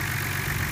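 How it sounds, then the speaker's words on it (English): A Nissan R32 GTR engine idles after a vacuum leak repair, a close, steady low rumble with an even, slightly pulsing throb. "it sounds like a K24 truck engine to me"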